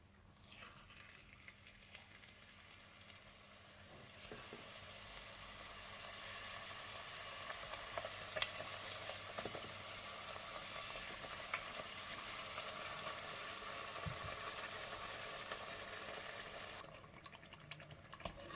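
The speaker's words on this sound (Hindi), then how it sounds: "और मैं भी अभी कुछ समोसे डीप फ्राई करूंगी" Chicken samosas deep-fry in hot oil, giving a continuous soft sizzling hiss with faint bubbling crackles that swell and then settle over nearly twenty seconds. It is quiet and close, with no talking.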